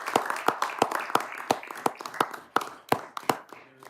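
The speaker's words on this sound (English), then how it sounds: "So just another round of applause" Applause for a police chief retiring after seven years, heard at a council meeting: a modest group claps in a loose, uneven rhythm of sharp individual claps, close by, fading near the end.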